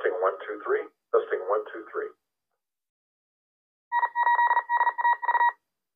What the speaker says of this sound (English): Now you can set this up to identify itself every 10 minutes or so using Morse code or CW, and that's what you heard.